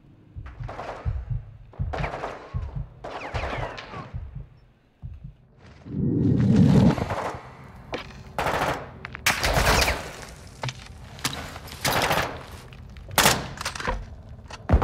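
Bursts of automatic gunfire in the Call of Duty Modern Warfare 2 video game, repeated short volleys with rapid shots and thuds, fairly close and loud.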